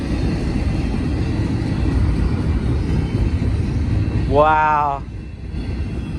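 CSX freight train rolling along Union Pacific track, a steady broadband rumble of wheels and cars filling the whole stretch, with a brief voice exclaiming near the end as the last cars pass.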